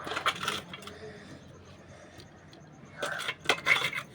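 Washed sesame being ground on a stone grinding slab: a short burst of gritty rubbing at the start, a quiet pause, then more scraping strokes, close and fairly soft.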